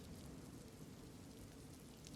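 Rain falls in a steady, dense patter, a faint continuous wash of drops with no other sounds.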